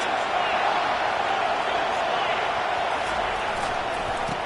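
Energetic home crowd roaring at an American football game, a dense continuous wall of cheering with occasional whoops standing out above it.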